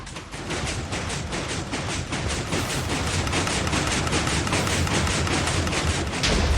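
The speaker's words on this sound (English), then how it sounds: "Let's turn this on and see if it explodes." Rapid bursts of crackling explosions from the video game Minecraft fire in a dense, steady series throughout, loud and close with no talking.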